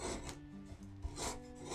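A skew chisel carves wood with a few soft, quiet rasping strokes, scraping close up with no talk.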